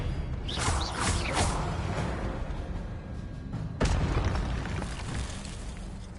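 Expelliarmus spell cast in a Harry Potter video game, a booming magical blast with a whooshing burst, followed by a second sharp impact and rumbling tail.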